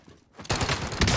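Enemy gunfire in Call of Duty: Black Ops Cold War, a sudden loud rattle of rapid shots after a brief quiet start, continuing densely to the end.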